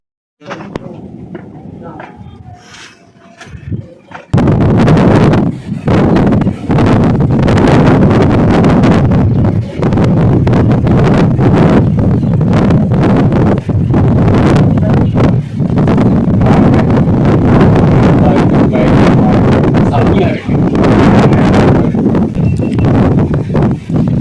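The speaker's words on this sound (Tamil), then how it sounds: "இவ்வளோ தூரம் ஏறி வந்ததுக்கு இங்கே தாங்க பயங்கரமாக காற்று வீசுது." Strong wind batters the microphone on top of Puli Kundu hill in Chittoor, Andhra Pradesh. After a quieter start, a loud, continuous roaring gust takes over for about twenty seconds with constant buffeting.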